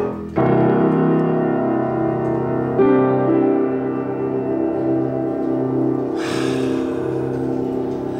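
Sustained tones from a Schwester No. 208 upright piano ring out with a deep, resonant low register, a new chord struck midway, and a brighter note layer entering near the end.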